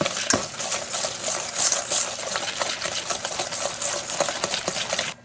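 Brown sugar and butter are whisked in a pan to dissolve the sugar, giving a rapid, close scraping and clicking of the whisk against the pan, steady and fairly quiet, with no talk.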